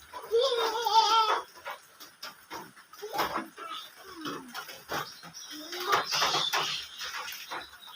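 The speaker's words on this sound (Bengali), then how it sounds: "সকাল থেকে এখানেই বাধা আছে ছাগলগুলো তুমি কি দুষ্টুমি করো" Goats tied up outdoors on a rainy day bleat repeatedly, several separate calls at close to moderate distance with short pauses between them.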